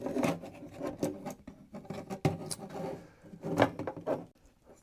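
Small metal latch on the back of an Agfa Isolette folding medium-format camera being pulled down and opened, giving a run of close, dry clicks, rubs and scrapes in bursts with short pauses between them.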